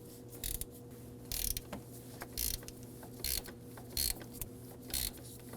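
A ratchet works a 10mm mounting bolt loose under the hood of a 2009-2010 Dodge Ram 1500 5.7L V8, clicking in about seven short, fairly quiet bursts spaced roughly evenly apart.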